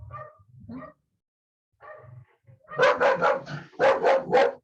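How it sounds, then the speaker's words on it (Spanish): A house dog barking indoors: a few low, scattered woofs and yips at first, then a run of loud, rapid barks close by, alone with no talk. "déjenme callo a mi perro"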